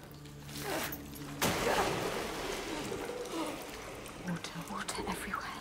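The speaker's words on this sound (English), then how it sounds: "Water everywhere." Water streams and drips steadily inside a cave in the video game Hellblade II, with a soft, continuous rush that swells briefly partway through, and faint whispering voices drift over it.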